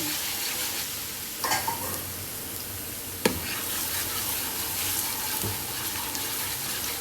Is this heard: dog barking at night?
no